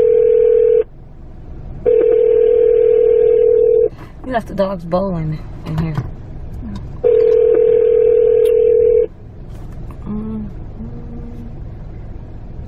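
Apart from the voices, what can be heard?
phone dialing and dial tone while calling from the car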